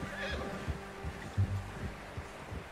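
A horse whinnies in the Red Dead Redemption II video game, a fairly faint neigh over a low, steady outdoor background with a few soft thuds.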